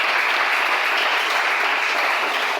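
A church congregation claps together in steady, full applause that fills the room evenly from start to finish.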